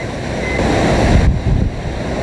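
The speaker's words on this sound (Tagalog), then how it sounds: "tila delubyo ang aking nasaksihan. Nang misulang umikot ang hangin na sinabayan pa ng malakas na agos ng tubig." Strong typhoon wind roars together with rushing floodwater in a steady, heavy wash of noise. Gusts buffet the microphone, with a brief dip and then a renewed surge, and no voices are heard.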